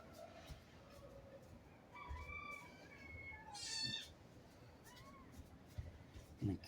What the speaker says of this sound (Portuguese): O gatinho tá aqui.